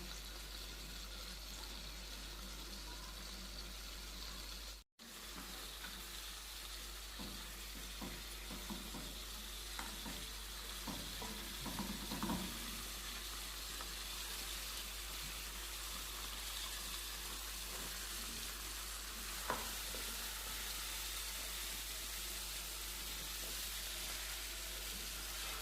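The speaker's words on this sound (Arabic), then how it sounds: "بعد ما شوحنا الدجاج مع البهارات والبصل" Chicken sautés with spices and onion in a pot while mansaf is prepared, giving a faint, continuous sizzle with occasional soft stirring scrapes and clinks and no talking.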